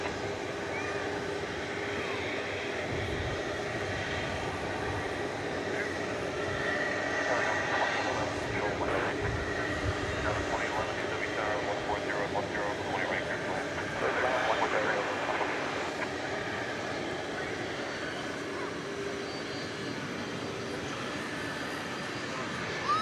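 An airliner departs DFW on a long flight to Melbourne, its engines a broad, continuous roar that swells around the middle, with a voice talking over part of it.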